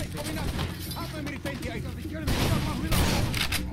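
A firefight in the video game Far Cry 2, with repeated loud volleys of shots and booms under a steady background. Voices talk over it.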